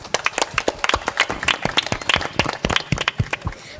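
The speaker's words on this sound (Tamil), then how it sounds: "ஒரு அரங்கு நிறைந்த ஒரு கைத்தட்டல் கொடுக்கலாம்." A school annual-day audience claps for a student speaker at a debate event, the applause loose and uneven with individual claps standing out at moderate volume.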